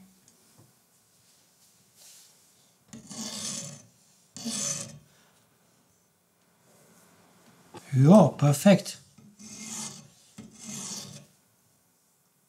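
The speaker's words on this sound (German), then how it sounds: "Wir werden schleifen mit unseren PDT-Diamantsteinen" Rhythmic rasping strokes of a knife blade across a diamond whetstone at a 20-degree angle come in bursts, near and clear, with a short spoken remark in the middle.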